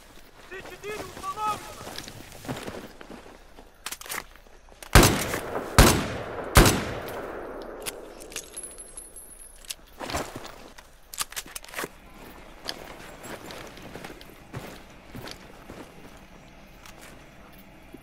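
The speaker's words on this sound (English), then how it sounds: "I'm shooting everywhere but the C4." Gunfire in Battlefield 4, with several loud sharp shots clustered near the middle amid scattered smaller impacts and footsteps, while a voice talks at the start.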